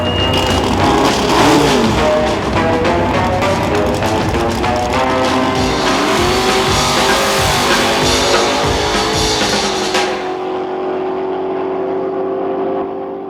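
Cars at a drag racing strip roar loudly with revving engines and a dense, continuous mechanical din that fades sharply near the end.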